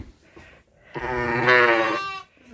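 A big ewe on a sheep farm lets out one loud, drawn-out bleat lasting about a second, close to the listener, after a short stretch of faint background noise.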